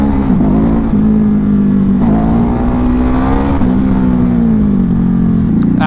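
A Ducati Hypermotard motorcycle engine drones loudly and steadily while being ridden, its pitch rising and dipping slightly as the throttle shifts, with constant wind rush and no break in the engine note.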